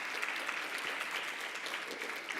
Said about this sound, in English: Can we give a round of applause for Celia Ayala here